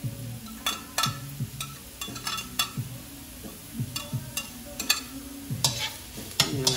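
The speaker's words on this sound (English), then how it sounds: "And then I'm gonna go ahead and drop my garlic." Garlic sizzles in a hot pan while making beef fried rice. A utensil stirs and scrapes it in quick, uneven strokes, with clicks and clatters close up over a soft frying hiss.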